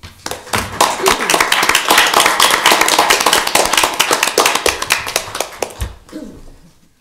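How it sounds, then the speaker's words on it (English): A round of applause fills a county board of commissioners meeting, dense and crisp for about five seconds before thinning to a few last claps and fading out. "Please join us with a round of applause."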